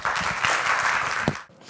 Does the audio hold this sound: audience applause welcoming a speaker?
yes